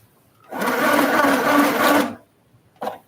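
A sewing machine stitches fabric in a single steady run lasting about a second and a half. It is close and loud, followed by a short mechanical clunk.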